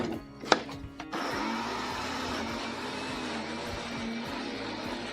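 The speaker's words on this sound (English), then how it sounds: "I will blend this in the blender until it reaches the consistency of the batter" A kitchen blender whirs steadily while blending oats into batter for a sugar-free, wheat-free, milk-free cake. A click comes first, then the motor runs at a constant, fairly loud drone until the end.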